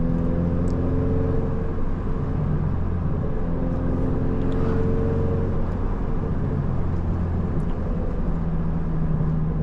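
Steady low road and engine drone fills a car cabin on a night drive to the gym, an even, moderate hum with no voices.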